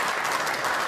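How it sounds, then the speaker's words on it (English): Studio audience applause during a tense televised political Q&A, a dense steady wash of clapping and cheering sustained evenly throughout the short stretch. "Applause filled the studio as people nodded and cheered."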